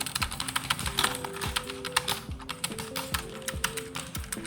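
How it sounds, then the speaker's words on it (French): Rapid clacking of a computer keyboard, close and clear, with bursts of keystrokes and heavier thumps in an uneven rhythm, no voices over it. "le clavier, je vous fais écouter"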